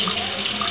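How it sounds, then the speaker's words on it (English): Tap water runs steadily into a basin during a hair wash, a continuous close, even rush that fills the whole short moment with no talk over it. "Now the water is running clear"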